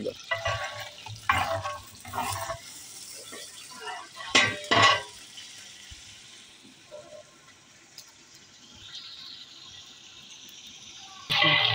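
Onions, tomatoes and ginger frying in ghee make a low sizzle with a few bursts of stirring and pot clatter, fading toward the end, then a sharp scrape; voices talk in the background.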